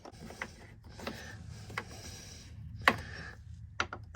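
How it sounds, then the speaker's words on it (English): A screwdriver drives a screw through the fitting of a swing-out table in a Bailey Autograph 79 caravan, giving sparse, close ratcheting clicks and creaks spaced across the moment, with one sharper snap near the end. "I should have a screwdriver to get that through."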